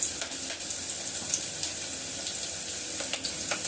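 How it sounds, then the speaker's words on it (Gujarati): Onions fry in a pan with a bright, continuous hiss and crackle that stays loud and close, broken by a few sharper spatters, and no one speaks over it. "મસ્ત ડુંગળી શેકાવા માટે નાખી છે"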